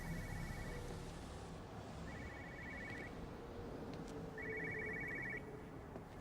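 A telephone rings in the video game Everybody's Gone to the Rapture, three clear bursts of ringing spaced about two seconds apart over a low, steady ambient rumble.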